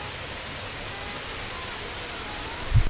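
Khlong Luang waterfall on Koh Kood island pours out a steady, broad hiss of falling water, continuous and fairly close, with a brief low thump at the very end.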